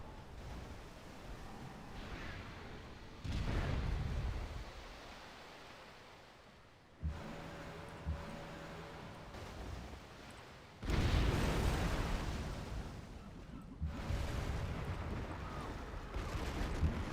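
Torpedo strikes in Civilization V naval combat burst out as several loud explosions with booming, noisy blasts separated by quieter stretches, a game score hum underneath.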